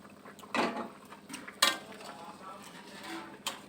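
Boiled eggs dropped into a pan of simmering egg curry with potatoes, giving a few soft clinks and splashes at close range, with a faint bubbling between them.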